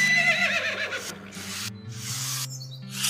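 A horse neighing in the West of Loathing video game, a drawn-out whinny with a raspy, scraping quality over a steady low game music tone.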